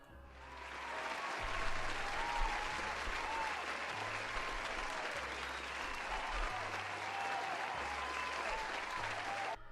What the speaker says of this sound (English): Let's give a round of applause for Suki.